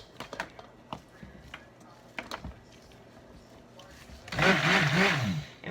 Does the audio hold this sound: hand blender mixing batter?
yes